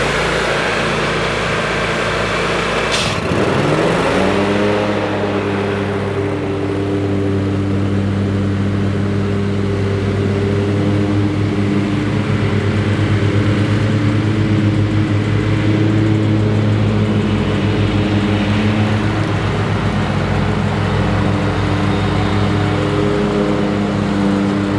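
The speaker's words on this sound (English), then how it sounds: "We're gonna get mowing here today, 6 miles an hour." A Turf Tracer walk-behind lawn mower running at 6 miles an hour while cutting grass in a field, a loud, close, steady engine drone that rises in pitch after a brief start and then holds constant.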